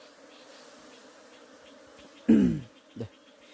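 Honey bees buzz around a wild hive on a mountain forest outing, a faint steady hum with one loud close buzz sweeping past and a second brief buzz soon after.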